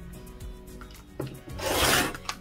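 A blade cuts fabric along a ruler for a zippered pocket, a short quiet scrape followed by a louder rasping drag near the end, close up with no speech.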